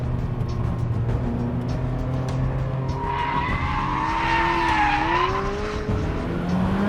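A Ferrari F40 with 480 horsepower and boost is driven hard, its engine note rising in a loud sweeping whine while tires squeal and skid continuously, close and without talk.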